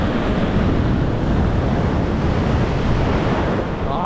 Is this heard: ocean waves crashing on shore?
yes